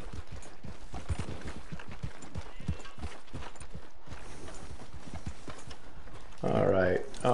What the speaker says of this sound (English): I don't feel very manly with this little horse right here.